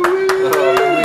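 People on a film set clap about five times in a slow, steady rhythm over a continuous held vocal tone, fairly close and loud.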